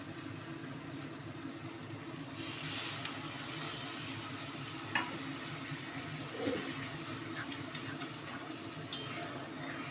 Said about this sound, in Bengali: মশলাটা কষে গেছে আমি হালকা করে জল দিয়ে দেবো এবার